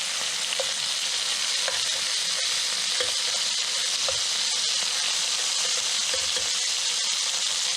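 Pieces of chicken fry steadily in a hot pan until golden brown, a continuous close sizzle and hiss with light scraping and stirring ticks scattered throughout, no voices.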